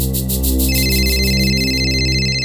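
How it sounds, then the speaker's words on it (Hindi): A telephone rings continuously with a repeating electronic trill, loud and close, over a steady low hum. "आपका फोन बज रहा है, उठाइए।"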